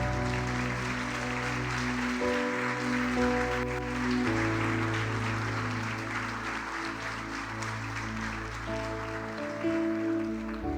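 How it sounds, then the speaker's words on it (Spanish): A church congregation applauds during a service, steady broadband clapping blended under loud, sustained worship music with held chords that fills the whole stretch. "Denle un fuerte aplauso al Señor Jesucristo."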